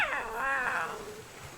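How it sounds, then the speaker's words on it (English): A pyromane creature from ARK Survival Ascended gives a goofy, cat-like yowl lasting over a second, a clear warbling call up close with no talk over it. "My pyromane on my shoulder is making some goofy little cat sounds."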